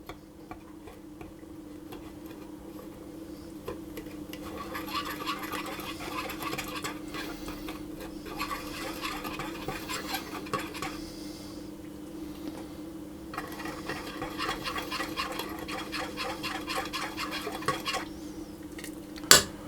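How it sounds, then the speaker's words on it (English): Ladle stirring and dissolving a piece of Japanese curry roux in a pan for chicken curry, with repeated light scraping and clinking of metal against the pan, steady and close, ending with a sharper knock. "I'm going to drop in one piece of my roux, and I'm going to mix that around and dissolve it basically"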